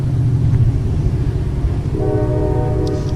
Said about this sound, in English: Stand by for the train.